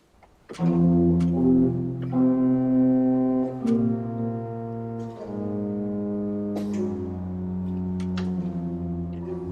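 Deep sustained organ pedal tones step downward in an uneven, off-beat rhythm, each low note held and overlapping, full and resonant with no voices, from Bach's chorale prelude BWV 621.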